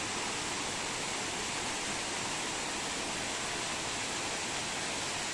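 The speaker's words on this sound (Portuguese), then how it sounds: "Olha a água caindo naquela pedra lá." Spring water cascades onto a rock along a nature trail at Poço das Antas, a steady, dense, close rush of falling water with no break or other sound over it.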